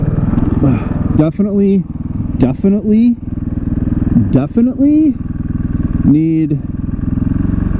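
A 2014 KTM 450 XC-W supermoto motorcycle's single-cylinder engine thumps loudly and steadily close by, with several sharp revving surges, while someone talks over it.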